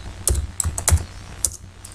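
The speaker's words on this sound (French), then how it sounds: "on valide par la touche entrée du clavier" Computer keyboard keys are typed in a few quick, close, crisp clicks, ending with a press of the Enter key, and no voice is heard.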